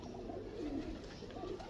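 Pigeons of a French breed cooing softly nearby, a few low rolling coos repeating over a faint background hum.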